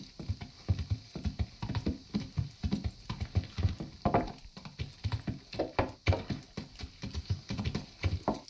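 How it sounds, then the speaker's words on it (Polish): Horse hooves clip-clopping steadily as a rider travels in the medieval game Kingdom Come, a regular, close rhythmic trot of hoofbeats with faint background ambience. "Wsiadamy na naszego zajumanego konika i jedziemy zawieźć fanty do domu."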